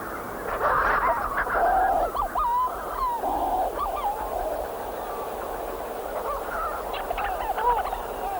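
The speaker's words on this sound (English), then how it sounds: "There goes the bird we're specially looking for, Leach's fork-tailed petrel." Leach's fork-tailed petrel calling in flight at night on St Kilda, a run of chattering, warbling calls that rise and fall across a steady background hiss, fairly close and repeated throughout.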